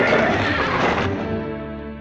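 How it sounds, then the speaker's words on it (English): A cartoon horse whinnies loudly in a long, wavering neigh that fades over its final second, set in an animated Robin Hood adventure after the horse has slipped in the mud. "My horse slipped in the mud."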